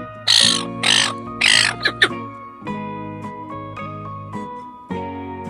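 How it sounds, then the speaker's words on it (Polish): A seagull gives a quick series of three or four loud, harsh, squealing cries close by, followed by softer short calls, all over steady background music. "Mewa."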